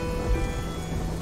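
Steady rainfall in the video game Black Mirror II, a dense continuous hiss of rain with faint low rumbling, heard alone at moderate loudness.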